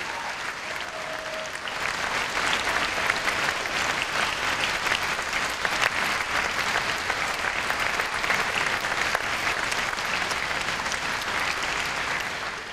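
A concert audience at a New Year's concert applauds the concertmaster, Zoltán Oláh. The dense, sustained clapping starts after a short pause, holds evenly at full strength and tapers slightly at the very end.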